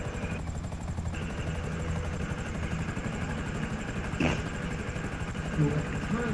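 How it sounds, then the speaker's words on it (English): A video game helicopter with rotor thumping and engine drone running steadily throughout, close and continuous at moderate loudness. "I pulled one of them helicopters out the garage so you ain't gotta go up in there and get it"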